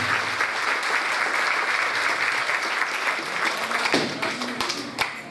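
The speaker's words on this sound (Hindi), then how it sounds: "तालियों से इनका स्वागत करें" A gathered audience at a religious community event claps loudly in welcome, a dense, even applause that thins into scattered individual claps toward the end.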